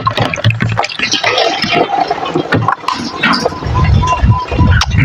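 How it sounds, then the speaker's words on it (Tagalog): Water gushes steadily into a plastic drum, a loud continuous rushing and splashing fill that runs with little pause. "Puro na kasi yung puno na kasi yung drum na pinapondohan ko ng tubig eh."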